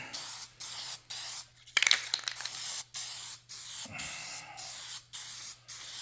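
Aerosol spray paint can coating a guitar body, a series of short hissing bursts in a steady rhythm separated by brief pauses, close and moderately loud, with a rattle partway through and no talking.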